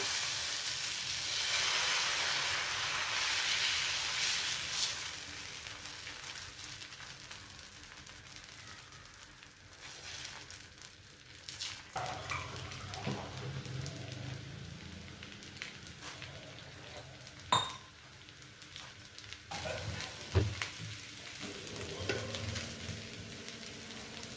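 Tomato dosa batter sizzling on a hot griddle pan, a steady frying hiss that fills the clip, with a few sharper crackles and scraping touches near the end.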